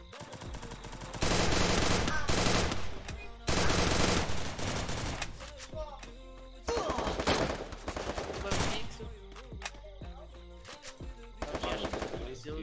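Rapid bursts of automatic gunfire in a video game, rattling loudly in several long volleys with short pauses between, dense and sharp like a firefight, during a 4v4 match.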